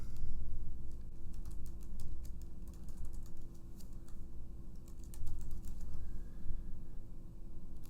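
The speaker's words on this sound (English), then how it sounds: "type in your username" Keys clatter on a computer keyboard as a username is entered into an email setup screen, a steady run of quick taps over a constant low hum, close and moderately loud throughout.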